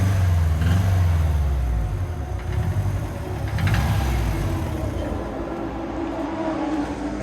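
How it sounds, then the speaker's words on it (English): A Subaru WRX engine runs loud and close with a deep, steady rumble and slight swells in pitch, no voices over it. "Give it a rev, man. Is it knocking?"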